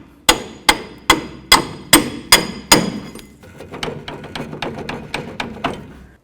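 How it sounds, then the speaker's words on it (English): Sharp metal hammer strikes drive a bolt out of a 2004-08 Ford F-150 front suspension: about seven loud, evenly spaced blows, then a quicker run of lighter taps, close up with no talk. "Now I'm just going to drive this bolt out of here."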